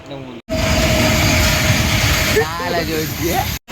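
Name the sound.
train passing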